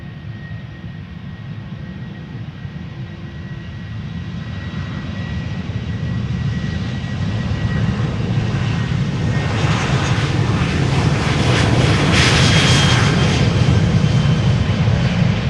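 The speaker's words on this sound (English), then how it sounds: "737-700 to Aberdeen, KLM flight 913." KLM Boeing 737-700 jet departing Amsterdam Schiphol for Aberdeen, a loud continuous engine roar close at hand that builds steadily in strength and brightness as the aircraft takes off.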